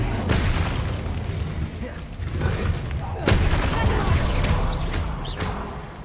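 A fire spell cast in a Harry Potter wizarding video game, loud bursts of whooshing, crackling energy with two sharp blasts at the start and midway, over a dense rumbling bed of game sound.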